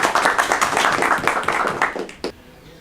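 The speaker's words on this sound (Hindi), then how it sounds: "मेजर साहब के लिए अगर तालियां होती हैं।" An audience claps for retired Major Riaz of the Gulberg estate agents association at a formal gathering, a dense burst of hand claps that runs steadily and then stops abruptly near the end.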